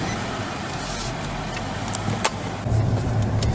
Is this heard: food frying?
no